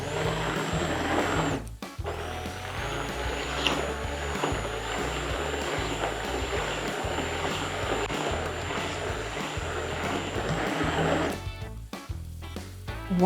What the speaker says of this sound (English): The finishing touch is to add our 200 ml of cream, just like this, and we're gonna blend it together one more time